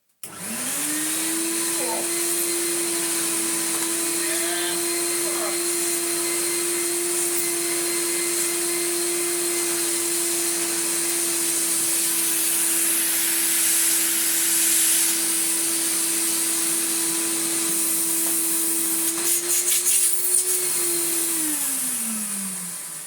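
A Numatic CTD570 twin-motor vacuum cleaner runs with its tools fitted, producing a loud, steady motor whine and rushing airflow that holds for about twenty seconds before winding down at the end.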